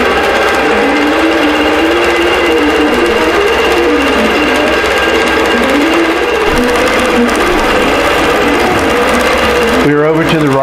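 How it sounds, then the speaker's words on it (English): An embroidery sewing machine stitches out a design on a quilted winter tree skirt, running steadily and loudly with a continuous rhythmic whir and pitch shifts as it moves, then a brief change near the end. "And I'm going to go ahead and let this sew out."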